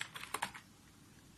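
Quick keystrokes on a computer keyboard while writing Sass code: a short cluster of soft clicks close by, then a pause, over faint room hiss.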